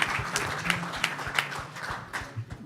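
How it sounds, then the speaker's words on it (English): A convention audience claps in steady, dense applause that carries on throughout at moderate volume, with no voice on top. "give Dr. Clark and these young men another round of applause."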